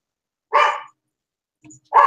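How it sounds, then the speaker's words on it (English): A dog gives two loud, close barks about a second apart, sharp and alone against silence, with a faint thump between them. "And I apologize for my dog barking in the background."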